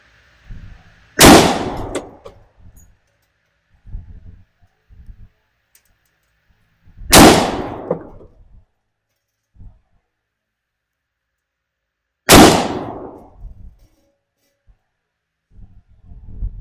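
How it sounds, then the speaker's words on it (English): A Glock 40 pistol in 10mm fires MagTech 180 grain target rounds in three loud, sharp single shots spaced about five to six seconds apart, each with a short ringing decay and faint handling clicks between. "We're getting ready to do a accuracy test with it, and we're using MagTech ammunition, 180 grain target rounds."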